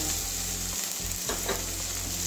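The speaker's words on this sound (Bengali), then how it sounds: "হালকা ভেজে নিচ্ছি।" Chopped onion and green chili lightly frying in a pan for a Bengali stuffed kakrol filling: an even, continuous oil hiss with a faint hum and a few soft stirring scrapes near the middle.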